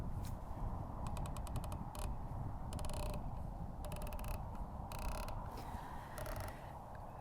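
Turrets on an Arken Optics SH4 Gen 2 6-24x50 riflescope being turned, producing quick bursts of crisp ratcheting clicks separated by short pauses over a faint outdoor background, with no talking.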